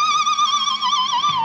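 An electric guitar whammy bar dive bomb with vibrato imitates a horse: a loud, sustained harmonic-rich note wobbles steadily throughout, sinking slightly in pitch toward the end.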